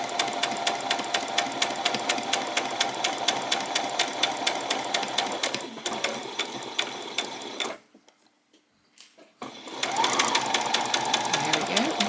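A sewing machine runs a back stitch on a peasant top, a fast, steady mechanical whir with rapid needle ticks that stops briefly near the end and then starts again.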